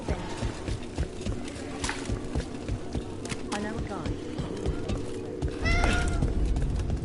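A cat meows in the fantasy video game Dragon Age: The Veilguard, a short rising mew standing out near the end over busy game ambience, footsteps and background noise.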